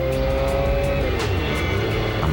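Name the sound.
McLaren F1 car engine running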